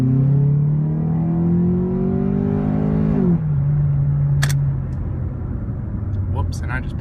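A 2012 Ford Focus in L gear: the engine holds a loud, high whine, then drops sharply to a lower steady drone. A voice talks over it.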